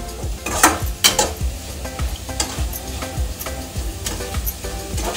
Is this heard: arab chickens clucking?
no